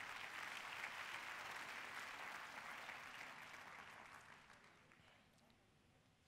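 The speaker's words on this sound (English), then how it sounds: "Clap your hands for Jesus Christ." A large church congregation claps their hands for Jesus Christ during a prophet's sermon: full, dense applause that starts strong and gradually thins and fades over about six seconds.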